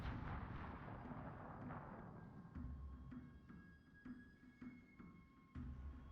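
The Novorossiysk battleship firing HE shells in a World of Warships tournament match, a string of several distant, booming salvos spaced a second or so apart under a low rumbling battle bed.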